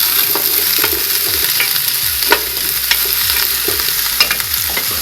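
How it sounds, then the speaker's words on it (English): Celery and onion sizzling in a stock pot while being stirred, a continuous close frying hiss broken by repeated scraping strokes of a utensil against the pot, with no talking. "Just stir in the pot."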